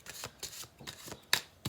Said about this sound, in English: We're gonna do 2 more shuffle throughs.